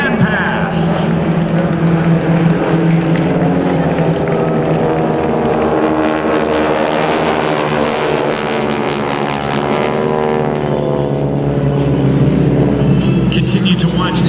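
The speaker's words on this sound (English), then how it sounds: "J2 aircraft do the GEICO Skytyper fan pass" GEICO Skytypers World War II aircraft flying a fan pass at an airshow, a loud, sustained propeller engine drone that shifts in pitch as the formation passes, with an announcer talking over it.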